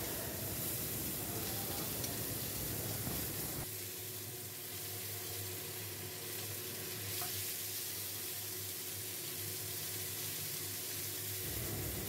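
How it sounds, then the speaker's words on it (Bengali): Onions frying in mustard oil in a wok give a steady, fairly quiet sizzle that stays broad and continuous, with a brief louder, busier stretch at the start before settling into an even hiss. "কড়াইতে সরষের তেল দিয়ে দিয়েছি, দিয়ে পেঁয়াজগুলো আমি ভেজে নেব।"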